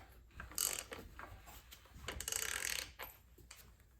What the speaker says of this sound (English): If we put the 22mm on the front crank bolt, it's a lot harder to turn than before.